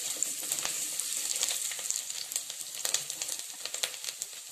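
Fenugreek seeds and curry leaves go into hot oil in a clay pot for a fish curry and sizzle with a bright, steady hiss and frequent small popping crackles, close and uninterrupted by talk.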